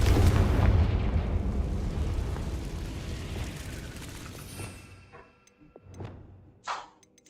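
A Confringo fire spell detonates in the Hogwarts Legacy video game, a heavy booming blast whose low rumble rolls on and fades over several seconds, followed by a few small ticks and clicks.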